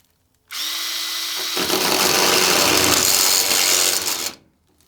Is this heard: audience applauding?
no